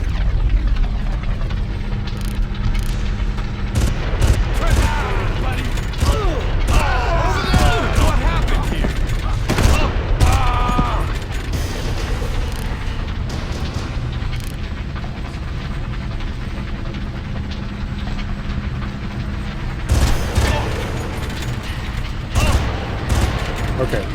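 Gunfire in the Far Cry video game crackles in dense bursts through a busy stretch of play, with a low rumbling background, mechanical noises and occasional voices mixed in.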